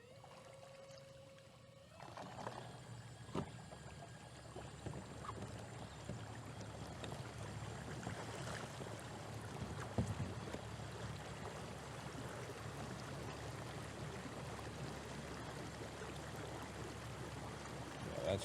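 Boat driven at full speed by a Torqeedo electric motor, a brief clean tone giving way to steady rushing water and hull wash with small bumps and splashes, loud and close throughout.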